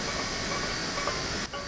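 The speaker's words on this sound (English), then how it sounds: "Oh, we got a train passing by." A passing train in the Train Sim Classic game rushes by as a steady, loud, hissing rumble that briefly dips near the end.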